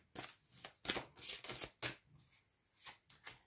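Tarot cards are shuffled and drawn by hand for a reading, producing a series of soft, close riffling swishes and flicks in uneven bursts against a quiet room.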